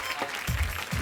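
Brief, faint clapping from a studio audience cheering Farah Khan, Sonu Nigam and Anu Malik on a comedy show, with a couple of soft low thumps in the short wash of applause.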